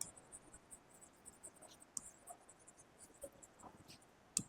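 A pen scratches across paper in short, soft strokes, faint and close, with irregular scratchy bursts and small taps as it writes out a definition in a quiet room.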